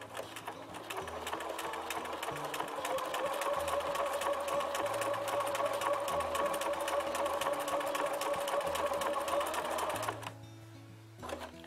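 A sewing machine stitches paper-pieced fabric in one long steady run of rapid mechanical whirring and needle clatter, close and loud, ending abruptly near the end.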